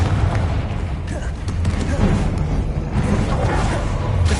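Confringo blasting-spell explosions in the Hogwarts Legacy game, heard as loud, continuous booming blasts and rumbling impacts over a dense battle din.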